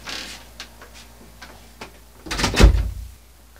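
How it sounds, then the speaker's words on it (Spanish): A door in a video game is unlocked and opened: a few light clicks and ticks of the lock, then a heavier thud and creak as the door swings, fairly close and loud, with no talking. "tomas la cerradura, la giras, abres la puerta y sales"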